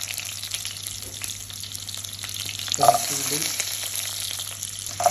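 Sliced onion cooks in oil in a pan for a chicken curry, a soft continuous sizzle with a low background hum and a brief clatter of utensils midway, close and moderate in loudness.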